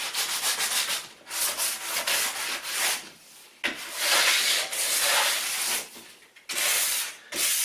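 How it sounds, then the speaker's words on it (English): Old paintwork on a wall beside a door frame is rubbed down by hand with sandpaper, a steady rasping scrape in long continuous strokes with brief pauses between passes, close and alone. "just rub down a little bit on the face of the wall here where the caulk came away"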